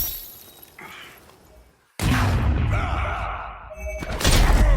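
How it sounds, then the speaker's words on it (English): Ice shatters under a stomp in the Injustice 2 fighting game: a sudden loud crash after a quieter buildup, followed by a sustained crumbling burst and a second heavy impact near the end. "He freezes them with another trick arrow and comes down in a stomp, shattering the ice."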